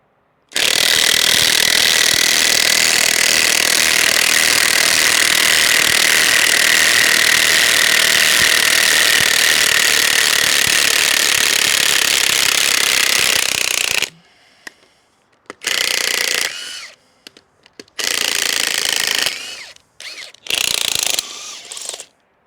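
DeWalt DCF899 and Ridgid R86221 high-torque impact wrenches removing fasteners from a log: one long, loud, continuous hammering rattle lasting about fourteen seconds, then several shorter bursts separated by pauses.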